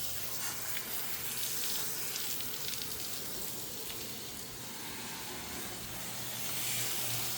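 A hose sprays water over a truck body, producing a continuous broadband hiss and patter of spray with a faint low hum beneath it, steady throughout and with no talking.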